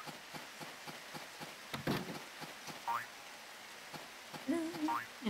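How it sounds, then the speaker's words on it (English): Soft rain pattering in the Harvest Moon DS video game, faint and steady, with a few ticking drops and short cartoonish chirps and boings from the game. "I think the duck would like the rain."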